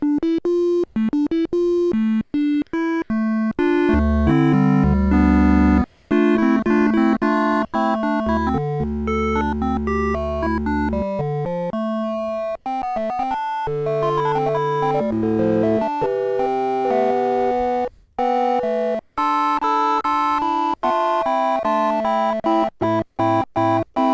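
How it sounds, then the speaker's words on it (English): A Korg Minilogue synthesizer plays a sequence of notes using its triangle oscillator with varying wave shape, shifting through a range of timbres with choppy pauses between phrases, loud and alone. "let's listen to what the triangle has to offer in the wave shape arena"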